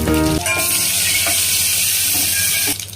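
Mustard seeds and curry leaves sizzle in hot oil for home-style rasam, a loud, close, continuous frying hiss that holds steady for nearly three seconds after a brief clatter at the start.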